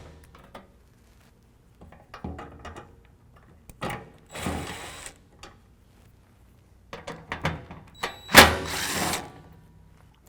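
A 10 mm socket ratchet clicks in short bursts, removing screws that hold the plastic piece to the skid plate on a vehicle bumper, with quiet pauses and a few louder rattling scrapes between.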